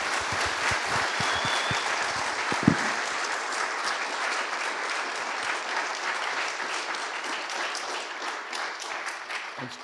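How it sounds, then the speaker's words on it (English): A crowd at a university entrepreneurship event applauds a football coaching group, with dense sustained clapping throughout and a few sharp nearby claps early on. Faint voices can be heard under the applause. "One big round of applause for the whole group"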